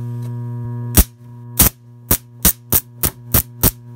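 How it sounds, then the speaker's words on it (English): A modified microwave-oven transformer with thick secondary cables gives a steady 60 Hz mains hum throughout, broken by about eight loud, sharp cracks of high-current sparks from its shorted output leads at irregular intervals. "60 hertz hum."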